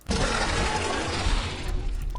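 A loud, grinding call from the Nyctoxon creature in the game Creatures of Sonaria, with a rasping, crackling texture, sustains for about two seconds before tapering slightly.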